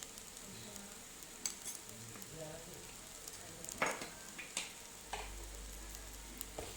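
A spice mixture with coriander powder is stirred in a pan, giving a faint, low sizzle broken by scattered spoon scrapes and clinks against the metal.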